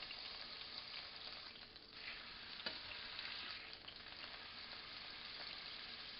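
Beef fillet for Beef Wellington searing in a hot pan, a steady close sizzle of frying that holds evenly throughout with no talk.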